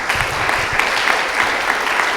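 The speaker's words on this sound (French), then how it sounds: "Je ne sais pas si on peut encore vous applaudir" Audience applause at a French film screening and discussion evening on suicide, a steady dense patter of many hands clapping throughout, fairly loud and even.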